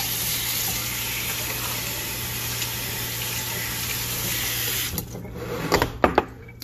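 Water pours steadily into a crockpot as the base for veggie soup, a continuous close splashing rush that stops near the end, followed by a few sharp clinks and knocks.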